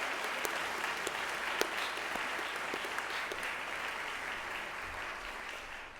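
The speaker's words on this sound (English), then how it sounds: "For the excellent news, a round of applause." A school congregation at a Thursday chapel service claps in a steady, sustained round of applause, dense and even from start to finish with no voices over it.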